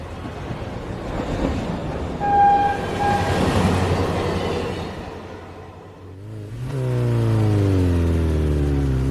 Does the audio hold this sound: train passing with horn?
yes